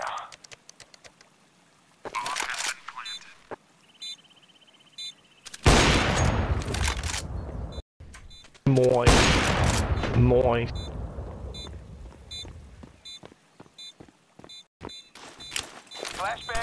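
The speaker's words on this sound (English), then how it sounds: "Flashbang out." Gunfire and a flashbang blast in a video game: scattered shots, then two heavy, loud bursts that crash in and slowly decay, with sharp cracks and clicks between them.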